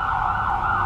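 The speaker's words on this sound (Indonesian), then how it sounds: "Itu apa? Ambulan." An ambulance siren wails steadily and loudly on a night street in Legian, Bali, one continuous rising and falling tone.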